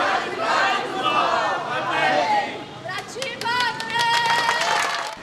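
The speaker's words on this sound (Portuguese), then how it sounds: "Batendo palmas, os amigos e familiares pediam justiça." Friends and family of a murder victim in Porto Alegre clap together and call for justice, with a crowd of voices murmuring and shouting first, then rhythmic clapping rising louder under continued chatter.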